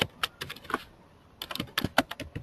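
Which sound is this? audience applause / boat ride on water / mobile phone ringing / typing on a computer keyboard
typing on a computer keyboard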